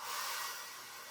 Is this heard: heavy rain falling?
no